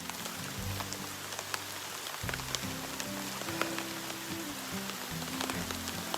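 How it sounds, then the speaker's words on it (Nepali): Heavy July rain on a hiking trail to Jhandi in Sikkim makes a faint, steady hiss of falling water with scattered sharp drips and patters close by. "On top of it, it was raining heavily."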